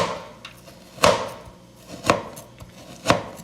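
A knife chops through frozen corn on a board in three loud, evenly spaced thuds about a second apart, with fainter taps between them.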